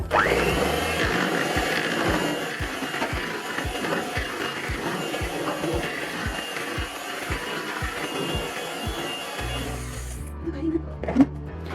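An electric hand mixer beats cake batter for a pineapple cake at low speed, giving a steady whirring hum with a regular ticking pulse. It runs for about ten seconds and then stops, leaving a quiet kitchen with a faint clink.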